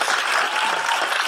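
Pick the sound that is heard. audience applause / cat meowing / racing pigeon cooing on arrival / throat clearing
audience applause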